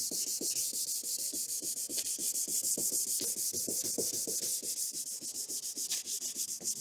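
Sandpaper is rubbed on a car headlight by hand in quick back-and-forth strokes, a close, continuous, rhythmic scratching with no talk.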